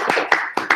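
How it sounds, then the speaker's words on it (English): Brief round of applause from a lecture audience at a law course closing plenary, with several bursts of clapping close and moderately loud. "I think we should give a quick round of applause to Diana."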